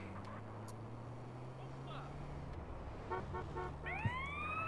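Ambulance siren in GTA San Andreas, rising as a wailing sweep near the end over steady game engine and traffic hum, with someone talking through the clip.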